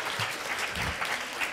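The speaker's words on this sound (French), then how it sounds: "on les applaudit" Brief, moderately quiet applause from an audience at a craft brewing event, a soft patter of clapping with a few low murmurs.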